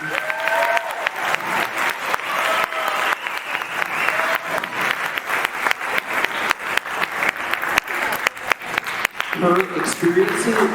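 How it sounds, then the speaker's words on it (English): An audience breaks into loud, close applause at a presentation, with dense rapid clapping that swells and continues steadily, with a voice rising over it near the end. "You can give a round of applause."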